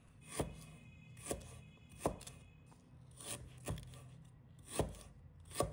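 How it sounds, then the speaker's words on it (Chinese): A knife chops ginger into small pieces on a cutting board, giving about seven crisp, evenly spaced thuds close by with no speech. "生姜也切成小块。"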